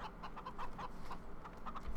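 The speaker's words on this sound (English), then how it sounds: "Got our 2 chickens there." Chickens cluck in the video game Farming Simulator 2013, a run of soft, repeated clucks over a steady background noise, fairly quiet and close.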